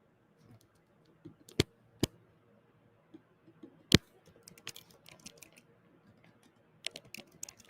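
Quiet, sparse typing on a computer keyboard: irregular single keystrokes and short clusters of clicks with a few louder taps, set in an otherwise still room.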